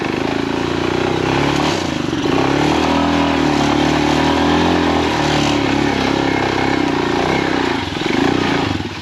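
A Himalayan 462 big bore motorcycle engine laboring up an off-road hill climb, loud and continuous with its pitch rising and falling as the throttle works, plus some clatter, close to the rider.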